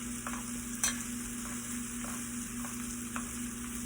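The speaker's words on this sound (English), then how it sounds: "And now I'm just going ahead and basting right here." Butter basting a sirloin steak in a skillet, a steady close sizzle with a few sharp spoon scrapes and spatters cutting through, no voices.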